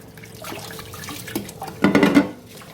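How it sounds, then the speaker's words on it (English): Soft sloshing and swishing of basmati rice being washed in water, with a louder burst of splashing toward the end. "So I get my basmati rice, I pour it into water, and I wash."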